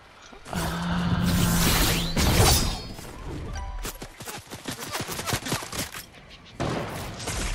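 Sniper rifle shot in Fortnite Zero Build amid busy combat: a heavy crack and whoosh followed by a rapid scatter of distant gunfire and impacts, fairly loud throughout.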